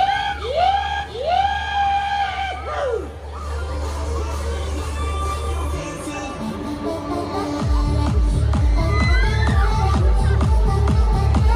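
Riders on a fast spinning fairground ride at a summer festival yell and scream in a loud crowd, mixed with pounding ride music and a bassy rhythmic beat that grows heavier toward the end.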